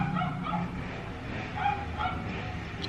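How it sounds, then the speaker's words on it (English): A dog barks and yips in short bursts over a steady low motorcycle rumble, somewhat distant and moderately loud. "It's too noisy. Dogs and motorcycles."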